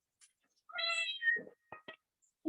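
A cat meows in a quiet home kitchen, one long clear meow followed by a couple of short chirping calls, close and fairly soft with brief silences between.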